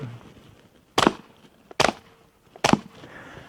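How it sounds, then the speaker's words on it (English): Three sharp, suppressed 9mm shots from a Smith & Wesson M&P 9 fitted with an AAC Tyrant suppressor crack out in an even rhythm, each a short loud broadband burst with a quick decay, and no voices between them. "we're going to fire a couple of rounds through the same Smith & Wesson M&P 9, but we're using a Advanced Armament Tyrant 9mm"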